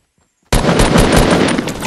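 Rapid assault rifle fire from a Fortnite match erupts abruptly after a short silence, a loud continuous burst of close automatic shots that carries on to the end.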